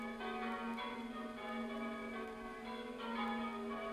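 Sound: church bells ringing over a village

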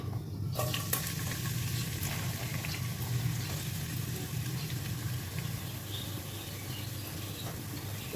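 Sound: onion frying in oil with whole cumin seeds

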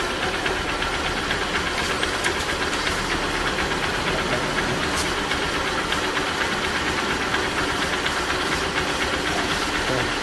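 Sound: motorcycle engine running

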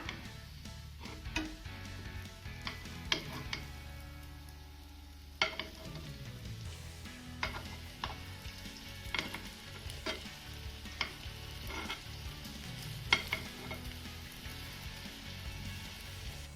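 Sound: carrot balls roasting in ghee in a pan

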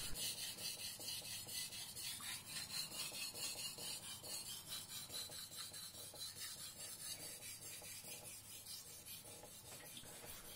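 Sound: sharpening a Teruyasu Fujiwara gyuto knife on a whetstone

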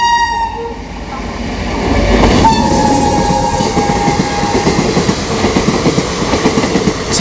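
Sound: Sealdah–Malda Town–Balurghat Gour Express train passing with horn

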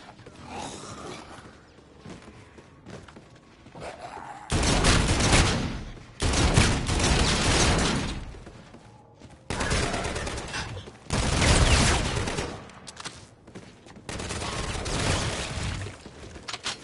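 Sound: gunfire from a gun in a PS4 video game

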